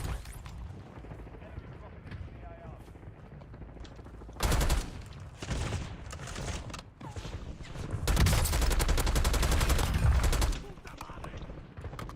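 An AK-74 rifle fires in Call of Duty Warzone, with two loud sustained bursts of rapid automatic fire separated by quieter stretches, and a person talking in the background between the shots.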